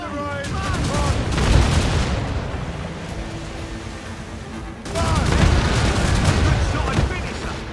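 Naval cannon fire during a ship battle in Assassin's Creed Rogue, two heavy rolling volleys of booming shots, loud and close, with shouted voices mixed in.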